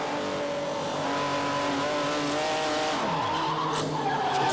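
Barber Dodge Pro Series race car at Sebring, heard onboard as Julio Campos brakes too late: loud steady engine drone, then tires skid and squeal while the engine note drops and rises again, with no talk.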